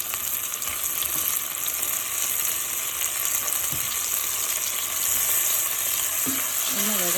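Garlic and tomato sizzle steadily in a hot pan as they are sautéed for a beetroot kaarakuzhambu, a continuous loud frying hiss with occasional scrapes of stirring.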